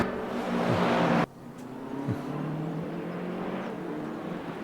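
GT3 race cars in a racing video game roar under hard acceleration. A loud engine drone cuts abruptly to a lower steady hum, with a brief gear-shift blip, close and continuous.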